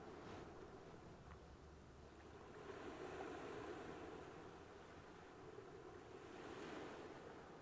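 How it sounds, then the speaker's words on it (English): Ocean waves wash steadily onto the shore at a fishing spot, a soft continuous surf with gentle swells and light wind noise, faint and distant, with no one talking. "So peaceful, just sat here, listening to the waves."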